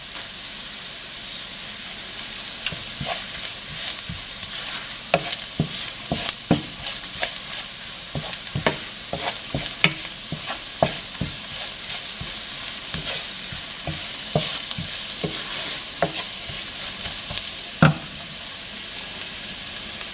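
Curry leaves and other ingredients are sautéed in oil in a pan for an elephant-foot-yam stir-fry. A steady, close sizzle runs throughout, broken by frequent sharp scrapes and taps of a spatula.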